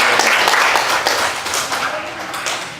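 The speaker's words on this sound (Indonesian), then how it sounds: "berikan tepuk tangan, Bu." Audience applause at a youth social education session, a dense steady wash of many hands clapping close by for about three seconds, fading slightly toward the end.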